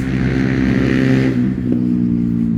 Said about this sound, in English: Yeah, noisy motorbikes.